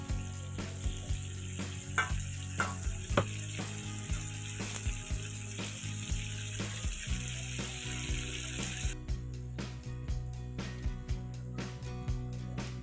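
Mango pieces frying lightly in a pan for a sweet, sour and spicy mango pickle, giving a steady close sizzle with scattered clicks and taps of stirring throughout.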